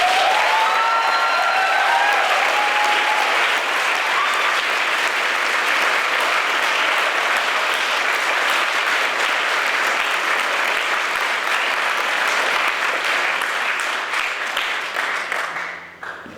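A crowd claps loudly and continuously for over fifteen seconds at a high school presentation, the applause thinning slightly at the end; a brief voice is heard near the start.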